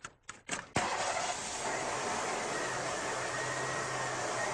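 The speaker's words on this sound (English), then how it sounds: "So I'll start the car, and we'll do that." A car engine cranks in a few short bursts and then catches, settling into a steady idle hum that runs on, recorded close during an emissions test.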